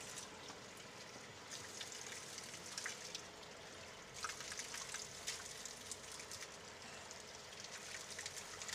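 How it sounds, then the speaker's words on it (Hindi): Mountain spring water from a local source in Himachal Pradesh runs and splashes steadily, a close, continuous gushing with small droplet spatters on top and no voices. "ऊपर जड़ी बूटी का पानी जो है यहाँ पर आ रहा है,"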